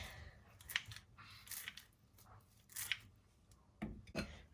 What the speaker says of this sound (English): just using some kitchen scissors here to get that in